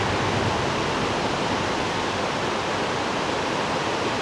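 Ramboda waterfall near Kotmale dam in Sri Lanka, a steady, dense rush of falling water with strong flow, loud and continuous without any voices.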